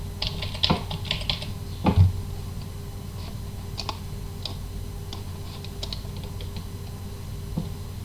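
Someone enters a verification code on a computer keyboard while setting up Hikvision iVMS-4200 software, making sparse, irregular key clicks and taps, with a few louder presses early on, close and clear against a quiet room hum.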